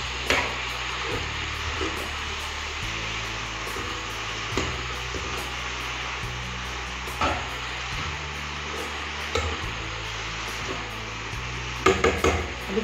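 Spinach wilting over high heat in a kadhai, with steady frying sizzle and a hiss throughout and repeated scraping stirs of a spoon against the metal pan, plus a few sharper clinks near the end.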